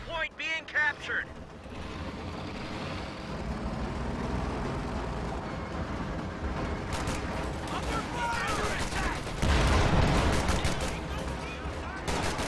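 Battle sounds from Company of Heroes 2: Sherman tank high-explosive rounds firing at Panzer Grenadiers, with repeated gunfire bursts and heavy blasts, loudest toward the end, under continuous commentary.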